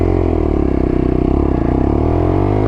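A 2021 Lexmoto motorcycle idles roughly with an idling fault, a loud close low-pitched chugging that pulses unevenly and sounds close to stalling.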